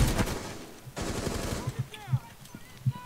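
Gunfire in Rainbow Six Siege, with a rapid burst of automatic shots at the start and another fast volley near the middle, followed by scattered single hits as a player speaks over it.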